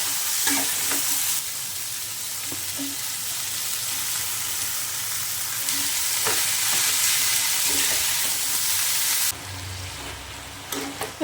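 Curry sautéing in a pan with stirring, a continuous hiss of sizzling oil broken by periodic scraping strokes of the spatula, close and steady, with a brief quieter dip near the end.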